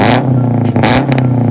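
A loud modified car engine revs hard and close, a sustained throaty roar with sharp bursts of acceleration rising and falling over a couple of seconds.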